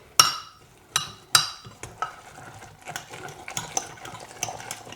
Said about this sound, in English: Okay, then mix it all together.